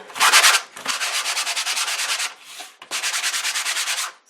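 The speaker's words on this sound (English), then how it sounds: "And I'm just going to sand it a little bit just to" Sandpaper rubs back and forth over a gesso-coated canvas in quick, even strokes, loud and close, running in three bursts with short pauses between and no talking.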